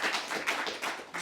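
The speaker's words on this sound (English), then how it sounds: "if everyone could give Farah a huge round of applause" Applause from an audience for a speaker named Farah at a fireside chat, a dense steady patter of many hands clapping at close range, with no talking over it.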